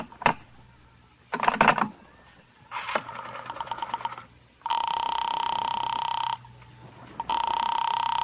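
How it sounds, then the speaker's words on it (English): A 1949 radio-drama telephone call is put through: clicks and rattling of a dial, then two long electric rings with a short gap between them, close and fairly loud. "I got to put through a call to Sing Sing."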